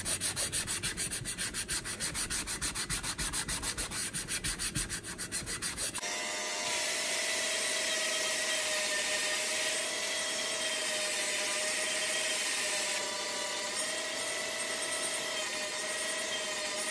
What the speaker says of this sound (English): Now just gonna take this little sanding sponge.